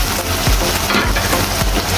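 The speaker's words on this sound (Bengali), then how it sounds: "এই জন্য চুলায় পেঁয়াজ আর রসুন দিয়েছি" Onion and garlic fry in oil on a stove, a loud, dense, continuous sizzle with a few soft stirring knocks, before water spinach and shrimp are added; no voices.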